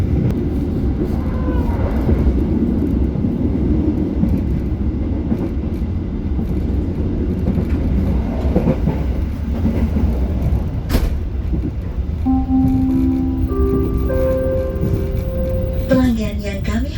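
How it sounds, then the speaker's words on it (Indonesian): A Logawa passenger train running toward Kutoarjo station, a continuous rumbling roar of the carriage with track noise throughout, under a person talking, ending with a chime and announcement tones. "yuk kita menikmati perjalanan sampai dengan stasiun Kutoarjo atau mungkin stasiun Lempuyangan."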